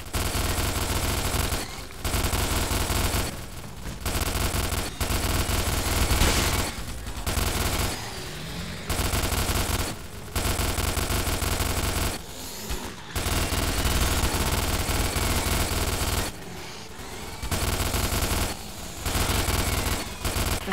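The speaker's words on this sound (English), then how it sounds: "Get on the gun tower and shoot down those hopper bugs." Gun tower machine gun fire in the Starship Troopers video game, loud sustained bursts of rapid automatic shots broken by short pauses, repeating across the whole stretch.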